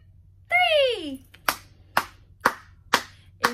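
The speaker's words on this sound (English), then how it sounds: "If you're ready for a story, clap your hands." Children clap their hands five times in an even, steady rhythm, close and crisp, after a sung voice.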